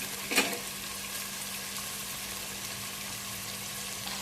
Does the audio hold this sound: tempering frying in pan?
yes